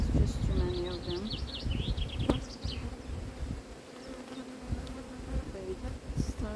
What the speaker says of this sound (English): Someone trying to sting me. Oh, beautiful bees.